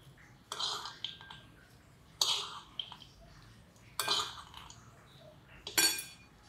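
Peanuts and garlic pounded by hand in a home kitchen, four sharp, separate bursts of crushing and grinding, close and clear, with quiet gaps between them.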